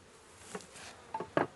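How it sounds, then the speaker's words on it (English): Bees around a top bar hive make a faint, brief buzzing, with a few short louder passes of individual insects close by over a quiet background. "So it would take me an hour to get all these bees to get out of the way."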